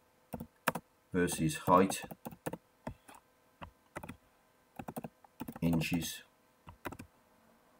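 Keys clatter on a computer keyboard as a chart title is typed into statistics software, bursts of rapid clicks broken by pauses, with a voice talking over parts of it.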